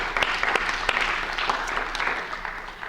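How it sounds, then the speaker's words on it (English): An audience at a math teachers' evening event claps for the organizers, a brief burst of moderately loud applause with distinct individual claps standing out. "So a big round of applause for them."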